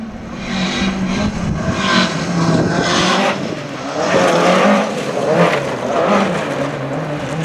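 Race car on a hill climb course in Vikersund, Norway, engine roaring steadily as it accelerates uphill, with tire squeal and gear-change surges, moderately close and without voices.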